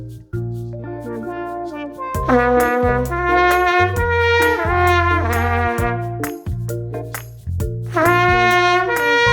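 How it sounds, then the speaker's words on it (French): Jazz trumpet played with a different mouthpiece, the "doux" model, sounding a bright, sustained melodic phrase with several held and moving notes, loud and close, with no talking. "Si je prends une embouchure différente telle que la doux,"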